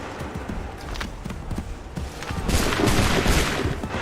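Musket volleys in Assassin's Creed III crack out as scattered shots, then a louder, denser burst of fire swells in the second half, with battlefield noise throughout.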